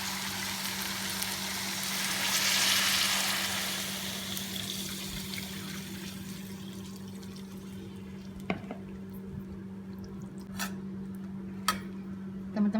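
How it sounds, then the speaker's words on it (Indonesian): A burst of hissing sizzle as water is poured into a hot pan while cooking Betawi-style milkfish, swelling briefly then settling into a quieter simmer with a few light clinks. "Lalu kita tuang air."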